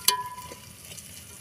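Masala paste fries in oil in a pan, giving a quiet, steady sizzling hiss with one sharp click near the start.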